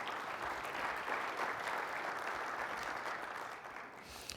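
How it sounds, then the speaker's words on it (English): Steady audience applause at a digital media marketing summit, a dense wash of many hands clapping at moderate level that tapers slightly toward the end. "Please, a round of applause for Steve Palmisano."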